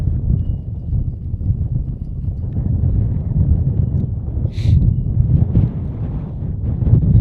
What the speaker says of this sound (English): The wind is definitely picking up here.